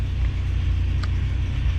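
A Toyota FJ60 truck engine idles close by with a steady, deep low rumble, running alone without talk.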